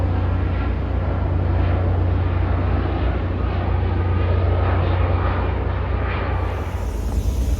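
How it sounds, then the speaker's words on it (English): A UPS cargo airplane on approach to San Jose International Airport gives a steady, loud broadband roar that holds for several seconds before easing slightly. "About to land at San Jose International Airport."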